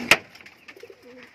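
Pigeons kept for sale in India give a few low, soft coos close by after a sharp knock at the start. No one speaks.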